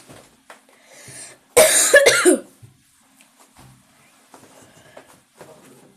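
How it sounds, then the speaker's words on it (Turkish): A single harsh cough bursts out loudly and close by amid an otherwise quiet room, with a few faint rustles around it. "öksürdüm"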